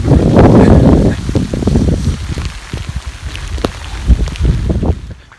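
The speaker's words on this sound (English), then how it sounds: "So it's windy, rainy and cold." Outdoors in Glacier National Park on a cold day, wind buffets the microphone and rain patters, loud gusts at first, then uneven rustling and patter.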